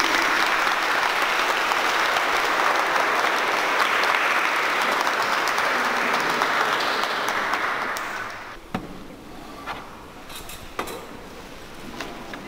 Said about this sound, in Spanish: Le damos un aplauso a Kelly Rubí